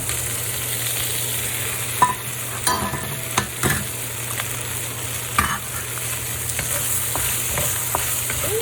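Okra and beef with soy sauce sizzle in a hot pan, a steady crackling fry under sharp scrapes and clatters of a spatula stirring several times.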